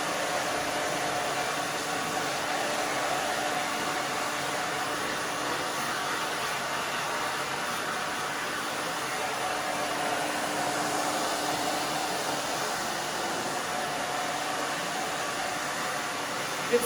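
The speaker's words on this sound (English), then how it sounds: "the more you move the blow dryer and the more you move your hands back and forth" A hair blow dryer runs steadily during a spiky pixie cut on thin hair, a continuous close broadband whoosh holding even for the whole stretch, with no talking over it.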